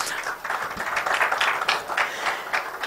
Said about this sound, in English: Can we have a really huge round of applause for them?